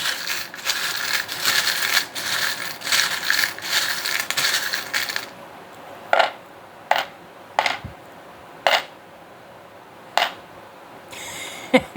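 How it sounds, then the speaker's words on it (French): Charms rattling out of a small treasure box during a charm draw: a long, bright jingling clatter of small metal pieces, then several separate sharp clinks with quiet gaps between them. "On se bouche les oreilles, on y va pour un tirage de breloque."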